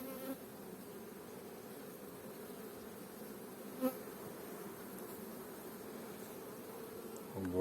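Honeybees buzzing on an open hive frame in spring, a steady, even drone that holds throughout, faint and close with no voices.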